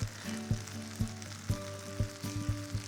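Risotto rice sizzles in a hot pan as hot stock is poured in, giving repeated sharp bursts of hiss every half second or so over a low steady hum, near and fairly clear, with no voices.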